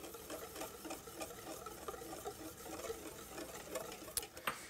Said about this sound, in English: Just whisk that in.